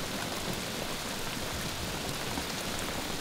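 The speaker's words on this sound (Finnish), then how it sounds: "Sade alkoi taas" Steady rain falls in a continuous, even hiss outside a wilderness hut near Lake Inari, Finland, soft and constant with no other sounds.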